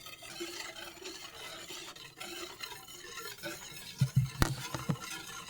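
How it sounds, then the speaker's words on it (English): Churro batter being whisked by hand in a bowl, a steady soft scraping stir that ends in a few louder, sharper clacks of the whisk against the bowl. "So I'm going to continue to whisk this"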